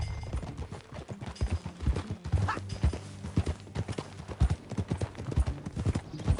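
Horse hooves clip-clop steadily on the ground in Red Dead Redemption 2, a brisk rhythmic walk close up with no talk over it.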